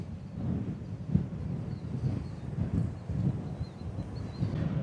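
Strong gusty wind blows across an open field beside a drainage ditch, a steady low roar with rushing surges that rise and fall throughout.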